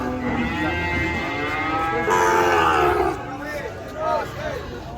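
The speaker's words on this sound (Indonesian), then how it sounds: "sapi bagus guys, malbore" Cattle being unloaded from a truck moo loudly and repeatedly, the calls overlapping and nearby, while a crowd of people talks and shouts throughout.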